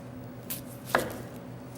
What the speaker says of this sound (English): Okay, I'm making some slices